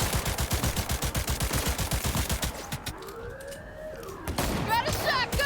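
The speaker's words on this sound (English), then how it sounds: "Shotgun ought to kill him." Shotgun blasts in Cyberpunk 2077, a rapid run of loud, evenly spaced shots from close by, followed by a sweeping siren-like wail and a final burst of gunfire.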